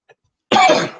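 One harsh, loud cough bursts out up close after a brief silence, then trails off.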